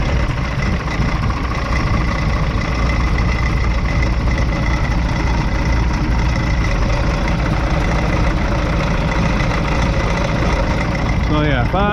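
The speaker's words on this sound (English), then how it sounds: "then we are going to start the tractor," A heavy tractor engine idles steadily and slowly with a low, rhythmic knocking rumble, continuous and close throughout.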